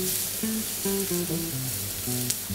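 Iberian pork secreto frying in a pan for paella, a steady close sizzle and crackle running throughout under a faint tonal background hum, with one small pop near the end.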